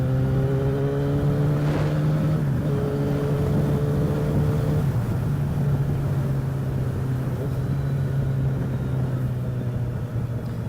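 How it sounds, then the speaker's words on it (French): A Yamaha XJ600 four-cylinder motorcycle engine while riding, a steady, smooth droning hum with a faint pitch shift partway through and constant rushing wind layered over it. "Et honnêtement ça chante super bien sur son petit 4 cylindres."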